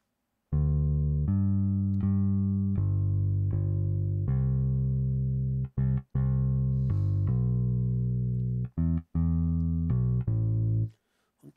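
Physically modeled Precision bass played through a solid-state amp model blended with DI, little EQ: a clean, round electric bass line of sustained notes with a few short stabs, close and alone.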